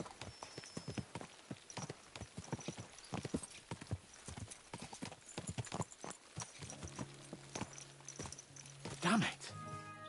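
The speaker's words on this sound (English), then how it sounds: "Let's really spur these horses on, eh?" Horses gallop in the medieval game Kingdom Come Deliverance 2, their hooves a steady, close clip-clop that runs throughout, with a brief whinny near the end and voices talking over the ride.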